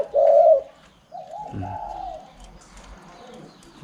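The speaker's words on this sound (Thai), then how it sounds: "ทีนี้มาฟังตัวนี้ครับเสียงกลาง" A spotted dove gives a short medium-pitched coo, followed by a softer, lower cooing phrase, heard close with quiet background.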